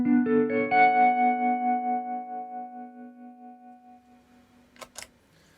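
An electric guitar chord rings out through Strymon Flint and JRockett Mr Moto pedals, struck once and left to decay over about four seconds with a pulsing tremolo wobble, followed by a couple of faint clicks.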